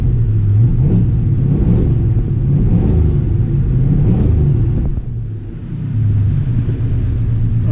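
A 1984 Chevy C10 pickup engine in need of a service, with a bad dead spot, runs with a steady low rumble and some revving, dipping briefly near the end before picking back up, close and loud with no talk.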